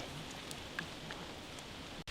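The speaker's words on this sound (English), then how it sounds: "So Yeah, it's raining!" Rain falls in a steady, even hiss on the foggy, windy Feuerkogel mountain in Austria, continuous until a brief cut near the end, with no talking.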